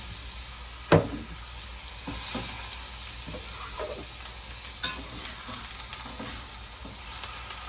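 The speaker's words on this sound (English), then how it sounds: "So I'm going to put it in the skillet. I put a little bit of olive oil in there" A burger patty sizzles in a skillet with olive oil, a steady close frying hiss with a sharp clunk near the start and another brief knock later, no voices.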